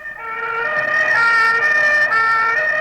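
An ambulance siren wails loudly and steadily through the streets of Rome in 1981, its high tones rising and holding close by, with faint road noise underneath.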